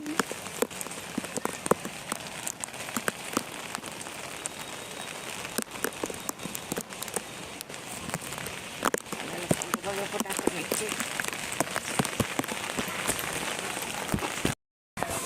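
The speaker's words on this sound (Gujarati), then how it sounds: "ઝરમર ચાલુ છે અત્યારે વરસાદ" Light rain patters steadily with scattered louder drips, while people talk quietly in the background.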